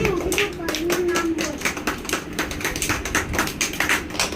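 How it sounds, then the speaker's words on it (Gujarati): Children clap their hands together in a quick, fairly even rhythm throughout, close and lively, while an adult voice speaks briefly over the start. "તાળી પાડો"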